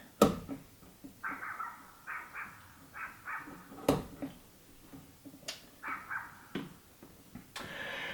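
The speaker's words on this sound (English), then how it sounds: "That dog sure does like to bark." A dog barks repeatedly in a workshop, the sharp barks coming in irregular bursts at moderate distance over light background noise.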